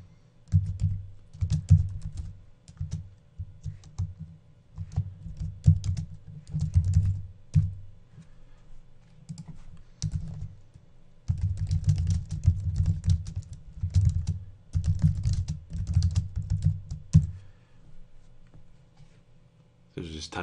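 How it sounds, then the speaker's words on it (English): Typing on a computer keyboard recorded through a Blue Yeti microphone, quick bursts of close key clicks with short pauses between runs, going on for about twenty seconds. "So just type in your profile, the title of the album, and a little description of what the pictures are."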